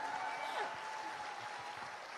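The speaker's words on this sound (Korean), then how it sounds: "Berikan tepuk tangannya." Audience at a business academy event applauding in a brief, steady wash of clapping with a faint tone and some low murmuring underneath.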